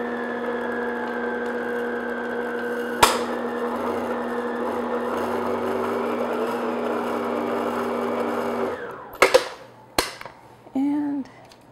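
An electric mixer whirring steadily at medium-low speed through lemon pound cake batter, a close mechanical hum with a couple of sharp knocks, stopping near the end before brief clatter and a short voice.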